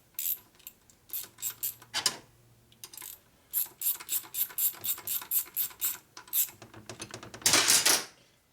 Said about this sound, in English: Okay, so I start torquing the center one here, then this outer one.